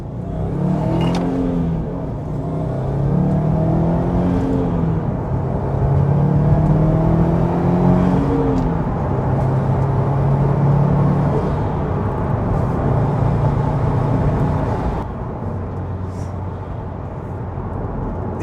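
Subaru Impreza STI hatchback with a 350bhp turbocharged engine, four-wheel drive and Milltek exhaust, heard from inside as it accelerates through rising and falling revs with turbo whoosh, a deep exhaust rumble and occasional pressure releases, long and loud.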